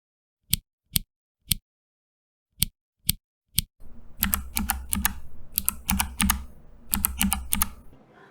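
Keys on a Logitech MX Mechanical Mini with light linear switches: six sharp isolated clicks, then a fast burst of close, crisp typing clatter.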